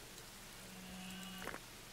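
A single drawn-out cow moo from the video game Dawn of Man, mid-distance and moderately loud, rising over a steady hiss of ambient background noise.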